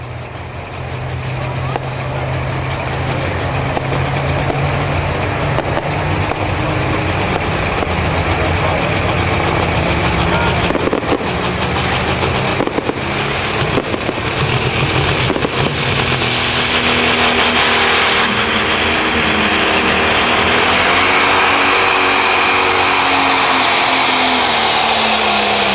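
A pro stock pulling tractor roars down the track at a night pull in Mound City, Missouri, its engine a loud, continuous, heavy drone that holds steady and climbs in pitch near the end, with an announcer talking over it.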